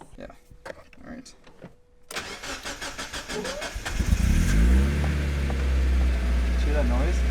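A Mazda NB Miata engine cranks and catches after a DW200 fuel pump install, settling into a loud, steady idle with a low rumble. Voices talk briefly before the start.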